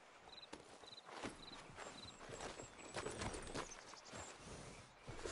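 Horse hooves walk at a steady clip-clop in Red Dead Redemption 2, close and fairly quiet, with faint ambient game sounds and light background noise throughout.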